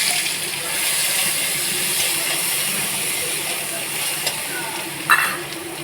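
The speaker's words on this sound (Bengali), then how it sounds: "পেঁয়াজ আর একটু আদা দিয়ে দিলাম" Onion and ginger sizzle steadily in hot oil with a little cumin, cooked in a pan after fish has been fried; the hiss is continuous and fairly close, with a few small clinks near the end.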